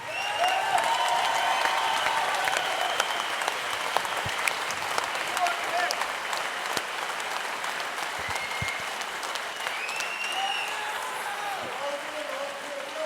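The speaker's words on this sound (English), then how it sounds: "Let's be upstanding and give these fighters a round of applause." Crowd at a GladiatEire FC mixed martial arts event applauding the fighters after a bout, with steady sustained clapping and scattered cheers and whistles filling the hall throughout.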